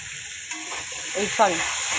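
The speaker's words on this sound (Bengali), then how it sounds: "ফুলকপি আলু ভাজা চলছে এখানে লাল করে।" Cauliflower and potato pieces fry in a pan, browning, with a steady hiss of sizzling oil throughout and a few brief stirring clatters; faint voices rise briefly over the frying.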